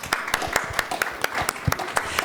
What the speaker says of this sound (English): a huge round of applause to our panellists